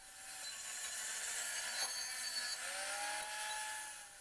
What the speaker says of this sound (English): So clean up with a wire wheel, getting some of the rust off